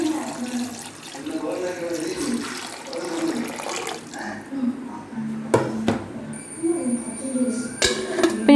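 Water is poured over tapioca in a cooking pot for Kerala-style kappa puzhukku, a steady splashing gush close by with a voice talking over it.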